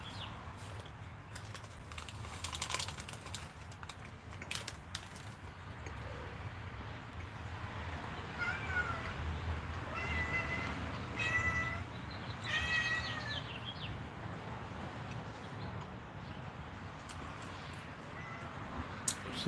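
A cat meows loudly and repeatedly indoors, drawn-out yowls rising and falling over about twenty seconds, with bumps and room noise in between.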